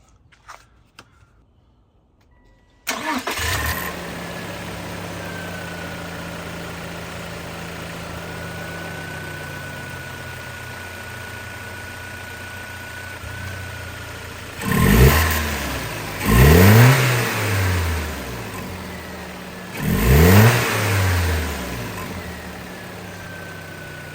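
A Toyota 4Runner engine with a newly installed aftermarket intake cranks and catches, then settles into a steady idle before being revved sharply three times, each rev rising and falling.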